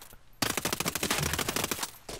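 Automatic rifle fire in the Ghost Recon Breakpoint video game, a loud close burst of rapid rounds lasting well over a second, with brief quiet before and after.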